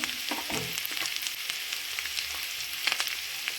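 Boiled potatoes frying with crackling cumin seeds in hot oil for samosa filling, giving a dense, even sizzle with a few stirring scrapes and light pops, close and uninterrupted by talk.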